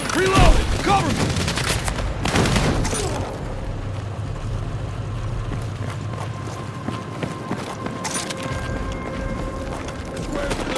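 Gunfire and battle noise in the Battlefield 6 campaign, with busy bursts of shots and clatter early on giving way to a steadier rumbling combat background, with a voice speaking briefly over it.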